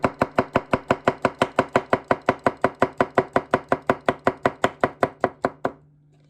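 Tomato being cut with a Tsuneshisa 240mm gyuto knife on a board, about thirty crisp, evenly spaced chops in a fast steady rhythm, close and clear, ending abruptly.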